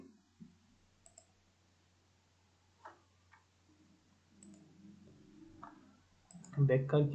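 Computer mouse clicks while filling in an online police constable application form: sparse single clicks spaced a second or more apart, quiet and close, with a voice speaking near the end.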